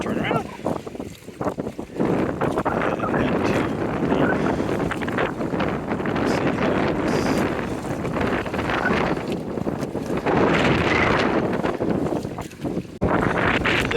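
A strong headwind blows over open water while kayaking on a Vancouver Island circumnavigation between Nanaimo and Campbell River, a loud, constant roar buffeting the microphone, with a voice speaking beneath it.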